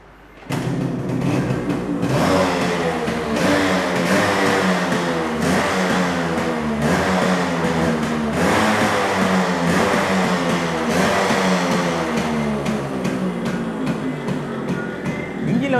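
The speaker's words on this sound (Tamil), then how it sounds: "வண்டியை ஸ்டார்ட் பண்ணி பார்த்துடலாம்" Vintage Yamaha RX135 two-stroke motorcycle engine starting abruptly, then idling and revving in a rapid, crackling pulse that rises and falls repeatedly, loud and close, alone with no talk.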